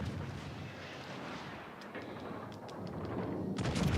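Warship turret guns firing in the World of Warships: Legends naval game, a dense, continuous booming rumble with overlapping blasts and no voices.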